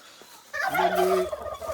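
A farm turkey gobbles once, a loud close rattling call that starts after a short quiet moment and fades away, with no talk over it.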